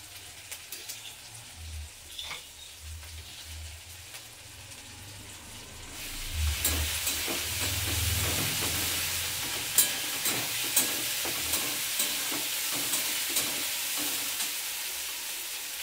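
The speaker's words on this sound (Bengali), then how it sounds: "কাঁচা গন্ধ চলে যাওয়ার জন্য আমি ভালো করে ফ্রাই করে নিলাম" Spice paste frying in a pan, a faint sizzle with scattered stirring taps that swells partway through into a louder, fuller sizzle with rhythmic scraping strokes.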